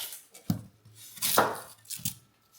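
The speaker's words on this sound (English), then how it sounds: "Now we're going to do the onion." Knife blade chopping an onion on a cutting board, a few separate sharp chops spaced unevenly, close and fairly quiet, with no talking.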